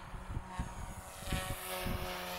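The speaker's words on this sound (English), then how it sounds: "you can do all the maneuvers even if you have smaller helicopters. This is the figure 8." A small RC helicopter flies a figure 8 outdoors on a very windy day, its faint rotor and motor hum pulsing rhythmically several times per second as it passes at a distance, with no talking.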